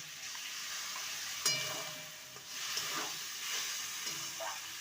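Drumsticks (moringa) in a pan with ground mustard-poppy seed paste, a steady soft sizzle and hiss with a few louder scraping stirs of a spoon, close and alone.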